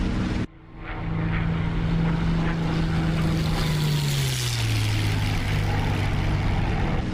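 A P-51 Mustang in the DCS flight simulator roars past in a loud, steady propeller-engine flyby, its droning pitch sliding lower as the fighter passes and recedes, with no talk over it.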